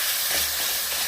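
Chopped onions sizzle in a hot pan with a steady, close, loud hiss of frying that stays even throughout, with no voices.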